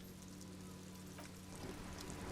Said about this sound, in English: Around you, rain falls on the great city of Revachol. Rain drips from the eaves and floods the gutters